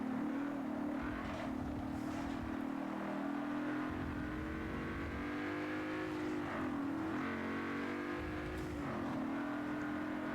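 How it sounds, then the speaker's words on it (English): A Ferrari race car in Forza 7 holds a loud, sustained engine drone at high revs, its pitch rising and dipping slightly through gear shifts as it crosses the finish line, with no one speaking. "the Ferrari was just crossing the finish line there"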